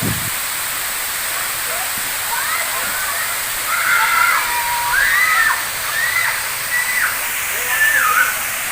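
Water gushes down an artificial waterfall at a water theme park as a constant broad roaring hiss, with a voice talking over it through much of the stretch.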